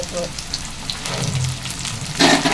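Curry leaves sauté in a hot pan for a chicken gravy, giving a steady, close crackling sizzle that swells into a louder burst near the end.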